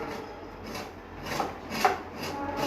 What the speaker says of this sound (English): Slowly you have to grate, and this is how the lemon zest come.